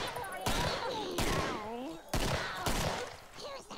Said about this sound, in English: that was a pretty badass shot